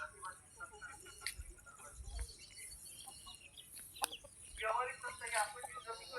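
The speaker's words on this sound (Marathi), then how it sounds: "मस्त कशा कोंबड्या खातात पहा" Faint, soft clucking from chickens feeding nearby at a rural countryside settlement, with scattered sharp chirps and light rustling over a quiet outdoor background.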